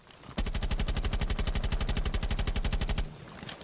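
Rapid automatic gunfire from a new weapon in Rainbow Six Siege, a sustained burst of about thirty evenly spaced loud shots lasting nearly three seconds, then stopping abruptly with a short fading tail.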